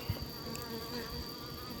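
A colony of Apis mellifera honey bees hums in a steady, fairly quiet drone, with a few individual workers buzzing close past the microphone early on.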